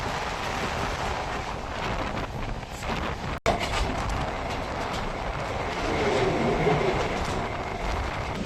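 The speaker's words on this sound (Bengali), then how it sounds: "এই মুহূর্তে আমাদের ট্রেন প্রবেশ করছে বাসুলডাঙ্গা রেলওয়ে স্টেশনে।" Diamond Harbour local train rolling into Basuldanga station, a steady rumble and wheel clatter with wind buffeting, briefly cut midway then continuing loud and close as the train slows.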